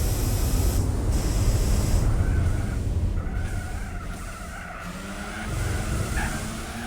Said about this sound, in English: Careful application of the nitrous, and then we just rocket away.